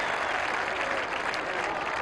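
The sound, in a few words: crowd applause at Australian football match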